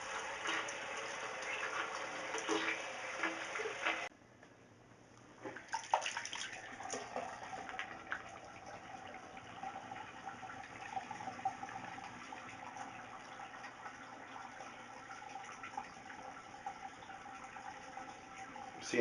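Water running and gurgling in a bathroom sink south of the equator, a steady broadband rush close by that briefly cuts out and then resumes, alone without talk.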